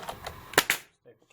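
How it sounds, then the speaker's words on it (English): A stapler fires into an inner cover being made for a beehive: a few light taps, then two sharp, close staple snaps in quick succession before the sound falls silent. "And staple once"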